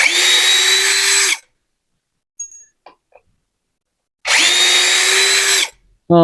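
A cordless brushless drill whines in high-speed second gear in two loud, even bursts, with a few light clinks in the quiet gap between them.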